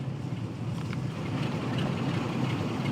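Steady low engine rumble of a military train climbing Shap on a cold winter evening in Train Sim World 6, heard with the cab window lowered, a continuous droning roar mixed with wind noise and no talk.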